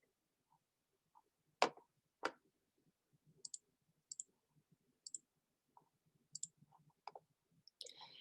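Computer mouse clicks come through crisply and close, several scattered single and double clicks across a quiet room with faint background rustle.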